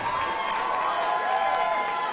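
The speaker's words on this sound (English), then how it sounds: "Let's give a big round of applause to both of these fighters." Crowd applause and cheering for two fighters after a three-round bout at a WCFL fight event in Tampa Bay, a continuous dense roar of clapping and voices, steady and loud throughout.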